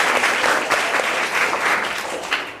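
An audience at a quiz competition breaks into loud, sustained applause, dense clapping filling the room evenly throughout with no talk over it.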